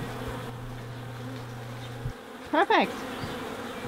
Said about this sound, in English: There are bees that are fanning the scent of their queen out of the hive, so the other bees know where to go.